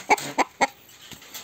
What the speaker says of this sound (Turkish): Bugün elimde bir horoz var.